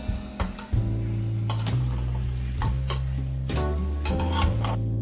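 Marinated mutton for dhaba-style mutton curry is stirred in a pressure cooker with onions, a spoon scraping and knocking the pot in irregular taps over a steady low sizzle.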